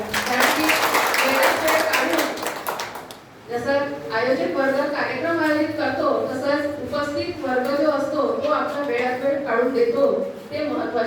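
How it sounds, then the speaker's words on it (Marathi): An audience at a community development committee meeting claps loudly for about three seconds, then the applause gives way to someone speaking to the gathering. "त्यांच्याकरता एक जोरदार टाळ्या होऊन जाऊ द्या"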